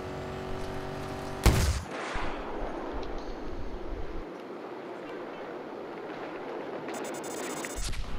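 A video game firefight with a TV-guided missile launch and gunfire: a sharp loud blast followed by rumbling explosion noise and a lingering roar, with another burst near the end.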